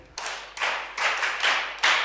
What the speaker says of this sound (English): Yes, clap your hands for him.